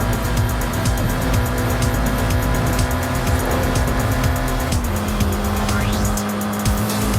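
A 2023 Nissan Z drifting in the Forza racing game, its tires squealing over a loud, continuous engine roar with rising and falling revs and brief screeching skids.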